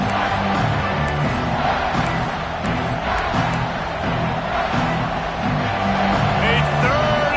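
A roaring football stadium crowd, Buffalo against Oklahoma State, cheers and yells in a continuous loud wash, with voices talking over the noise.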